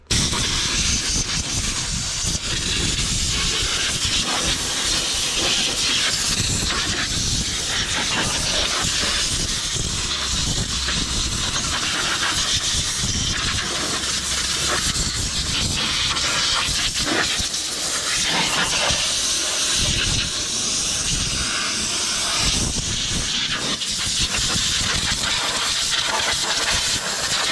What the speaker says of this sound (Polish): Sprężone powietrze.